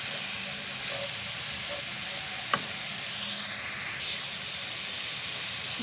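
Mixed vegetables including cabbage frying in a pan for potato rolls, a steady soft sizzle and hiss throughout with one brief clink partway, no talking.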